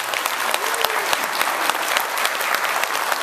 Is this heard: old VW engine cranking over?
no